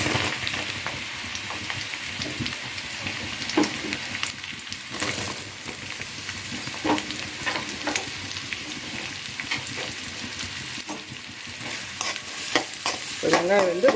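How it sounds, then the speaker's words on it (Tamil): Chopped onions for paneer bhurji sizzle and crackle steadily in a hot pan, with repeated scraping strokes of a spatula stirring them through the oil over the whole stretch, no voices. "இப்போ வந்து நம்ம கட் பண்ணி வச்சுக்கிற வெங்காயத்தை போட்டுக்கலாம்"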